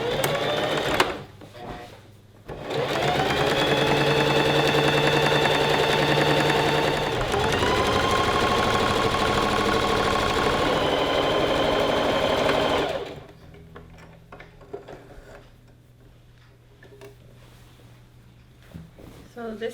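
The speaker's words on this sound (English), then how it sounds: "just sew those together all the way down" A sewing machine stitches gathered skirt panels together with a half-inch seam, running in one steady, loud, continuous burst of about ten seconds with a brief hitch partway, then stopping into quiet room sound.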